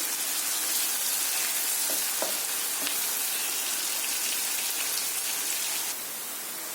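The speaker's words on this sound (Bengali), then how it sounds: "আচ্ছা দেখুন পেঁয়াজটা হালকা ভাজা ভাজা হয়ে গেছে।" Sliced onion fries in a generous amount of oil for a boal fish curry, giving a dense, even, close sizzle that holds steady before dropping slightly toward the end, with no voices.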